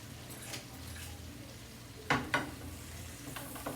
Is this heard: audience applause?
no